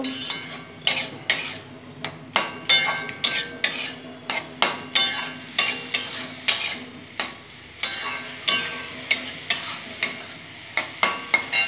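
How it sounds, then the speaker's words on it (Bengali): Amaranth stem greens with a little turmeric are fried in a pan, a utensil scraping and stirring in a steady rhythm of sharp, close strokes over a soft, continuous sizzle. "আবার ভালো করে সুন্দর করে ভেজে নেব"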